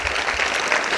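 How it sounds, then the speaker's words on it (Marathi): Applause from an audience at a public speech, a dense burst of many hands clapping close and loud, filling the whole short moment without any voice over it. "माझ्यासाठी एकदा जोरदार टाळ्या वाजवा या तरण्या पोरांसाठी"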